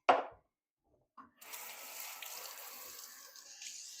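Tap water runs in a kitchen sink as a towel is wetted, a soft steady stream starting after a short click and continuing to the end, close and fairly quiet with no talk.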